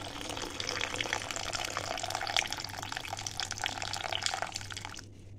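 Water with ground mustard and ginger poured from a mixer bowl into a cooking pot: a continuous close splashing pour for about five seconds that cuts off at the end.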